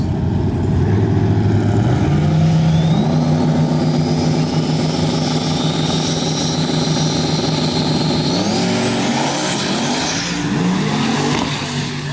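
Mustang and Camaro drag racing on a street-style strip, engines roaring loud and close, climbing through gear changes with stepped revs over about twelve seconds, a high whine riding above the heavy exhaust.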